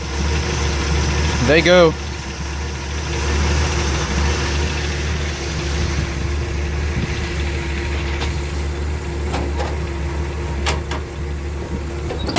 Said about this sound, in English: 300 cubic inch inline 6 engine.